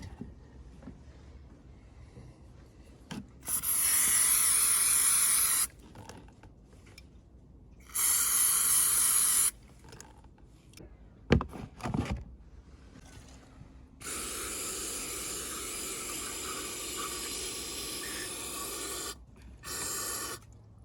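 Fuel is pumped through a dirty, rusty carburetor on a broken-down vehicle, making a steady mechanical whirring in several sustained bursts, a few seconds each, separated by quiet pauses and a couple of sharp clicks.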